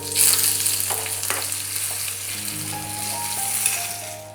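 Curry leaves and dried red chilies sizzle in hot oil with popping mustard seeds, a loud close hiss with a few crackles and faint utensil taps.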